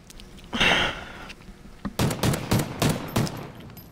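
Remington gunfire outdoors: a muffled thump first, then a rapid string of about five sharp, loud shots in quick succession, with no talking.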